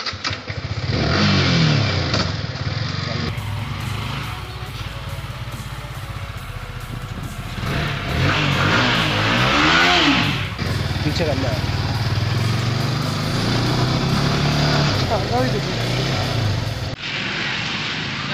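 A Yamaha R15 V3 motorcycle with a loud aftermarket exhaust, ridden with rising and falling revs and gear changes under steady wind rush, while a person talks over much of the ride.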